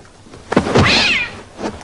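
A cat gives a single loud, close meow that rises and falls over about half a second, preceded by a soft thump and followed by a fainter short cry.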